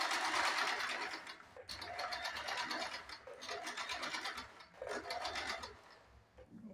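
A sewing machine stitches tucks on a belt blouse in short bursts of rapid, loud mechanical whirring and rattling. The runs pause briefly and restart several times.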